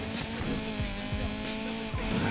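Car drifting in the racing game Need for Speed Payback, a steady engine drone with tire squeal and repeated short skid bursts running throughout.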